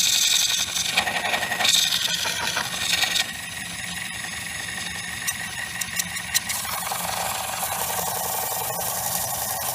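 A square winged wooden bowl spins on a woodturning lathe while Yorkshire Grit abrasive polishes it, giving a continuous rubbing, whirring hiss with some rattle over a steady motor drone, louder at first and then evening out, with no speech.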